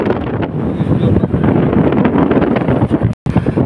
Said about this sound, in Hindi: हवा का प्रेशर भी बहुत ज़्यादा है।